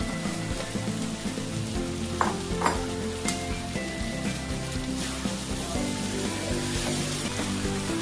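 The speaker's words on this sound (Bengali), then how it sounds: "ভেজে রাখা আলুটা দিয়ে দিচ্ছি" Fried potatoes stirred into a sizzling desi chicken curry keep up a loud, dense, continuous frying hiss, with a few clinks of the stirring utensil. No one speaks.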